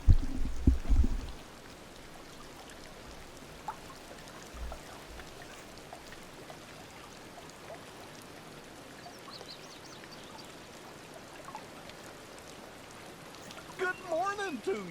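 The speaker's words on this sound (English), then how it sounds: "I'm gonna let you watch the rain" Gentle rain falls in the game Dreamlight Valley as a faint, steady patter with scattered drops, opening with a louder low thump and ending with a few bright chirps.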